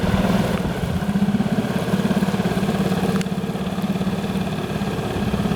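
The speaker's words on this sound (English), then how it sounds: "so the motor's not trucking through this muck" An outboard boat motor idling and chugging through shallow mucky water in the Florida Everglades, a steady mid-pitched engine throb running continuously up close.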